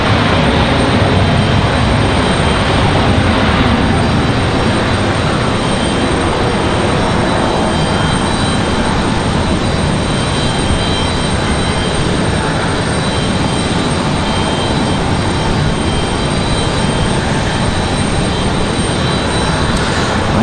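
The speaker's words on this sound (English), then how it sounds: "You can see this 737 really struggling, really fighting that wind." A Delta Boeing 737 lands at Raleigh-Durham in strong wind, giving a loud, steady jet roar mixed with heavy wind buffeting that fills the whole span without a break.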